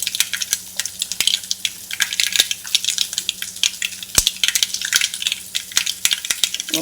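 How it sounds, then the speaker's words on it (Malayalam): Mustard seeds spluttering in hot oil in a pan, a steady crackling sizzle broken by sharp pops and clicks, close and fairly loud, with no talking. "കടുക് പൊട്ടി"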